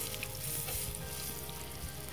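Bananas fry in a pan with a steady, faint sizzle and crackle that continues unbroken and unaccompanied.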